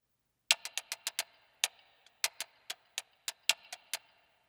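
Tick-tock percussion from manipulated metal instrument hits in the Heavyocity Ensemble Metals library: about seventeen crisp, bright clicks in a syncopated, uneven rhythm with short metallic ring tails against silence.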